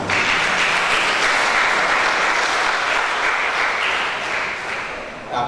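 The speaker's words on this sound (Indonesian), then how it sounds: "Tepuk tangan." An audience at a dental graduation and oath-taking ceremony for new dentists claps loudly and steadily in a hall, the applause tapering slightly near the end.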